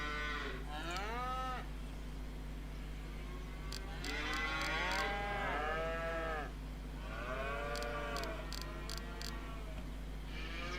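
Hereford cattle in Farming Simulator 25 give several drawn-out moos, overlapping calls from a small herd over a steady low hum, with faint ticking in the background and no talking.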